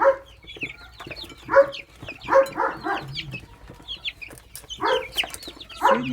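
Chickens raised for home use clucking at close range, with several short overlapping bursts of clucks and calls spread across the clip and no talk.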